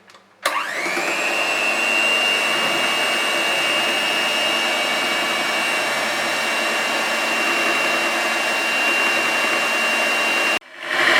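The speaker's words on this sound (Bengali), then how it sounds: "মাঝারি স্পিডে আমি আরো 10 মিনিট এটাকে কিন্তু ফেটিয়ে নিলাম" An electric beater at medium speed whips a chocolate ice cream mixture of cocoa powder and condensed milk. It starts abruptly and holds a loud, steady motor whine with a high tonal hum for about ten seconds, then cuts off.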